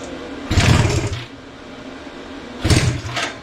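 Two separate bursts of a cold Honda Twinstar motorcycle engine trying to fire, deep and chugging, each lasting about a second, with a low idle rumble in between.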